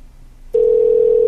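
A telephone tone heard on a call, a single loud, steady tone that starts suddenly after a quiet line hiss and holds unbroken to the end.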